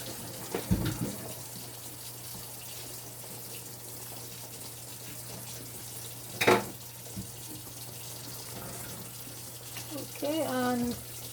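Tap water runs steadily into a sink as fish is washed under it, a continuous low gush with a few clinks and knocks, plus a short burst of talking near the end.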